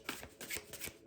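Tarot cards being shuffled by hand, several quick riffling bursts close by, soft and papery, with no talking.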